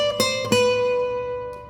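Two quick guitar string plucks, thin and poorly toned, ring out close together and fade slowly over a sustained tone with no talking.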